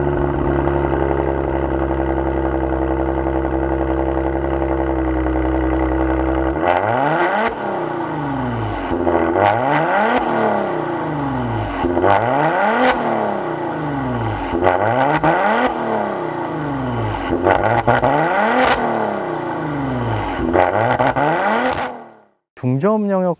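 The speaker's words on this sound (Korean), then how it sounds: "중저음 영역대 배기음을 좀 위주로 많이 이렇게 내뿜어주는 스타일이어서" A Maserati Quattroporte GranLusso with dual exhaust pipes settles at a steady idle, then revs repeatedly in rising and falling sweeps with a deep, mid-low exhaust note, loud and close, before cutting off briefly at the end.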